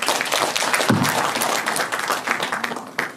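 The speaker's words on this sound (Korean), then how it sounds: "다시 한번 큰 박수 부탁드립니다" An audience at a lecture and training event gives a round of applause, a dense wash of clapping that stays steady throughout.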